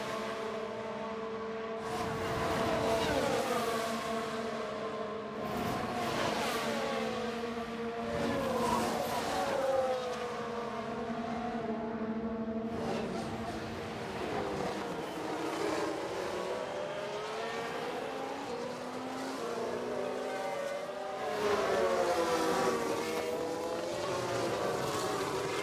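F1 race cars in the F1 Manager 2022 game at Miami scream past one after another, each high engine whine rising and falling in pitch as it passes, with layered cars overlapping at moderate loudness.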